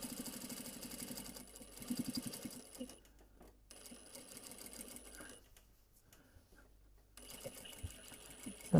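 A sewing machine stitches the fabric of a trouser toile, with a steady rapid whirring and clatter for about three seconds that then drops to a quieter hum with brief pauses.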